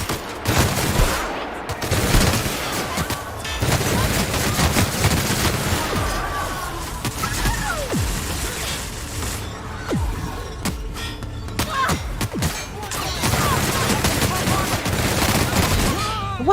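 Heavy enemy gunfire from a battle in The Outer Worlds, with dense overlapping volleys and sharp cracks that go on almost without a break, mixed with combat shouts and other game sounds.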